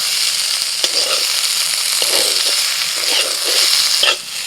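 Neem leaves frying in oil with fried eggplant in a pan, a steady loud sizzle close up, broken by soft scraping stirs at intervals.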